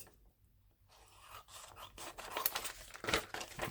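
Close, quiet snipping and crinkling of scissors working through paper, a few short cuts building to a busier stretch of rustling at the end.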